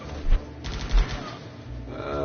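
Machine gun fire in the video game Guns Up! comes as two short, muffled bursts over a quiet, low game background.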